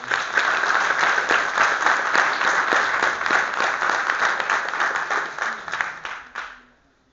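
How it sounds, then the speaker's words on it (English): Sustained audience applause for the organizers of a community event, a dense, even wash of clapping that holds steady before fading out near the end. "please give another round of applause for everybody who was involved in putting this event on"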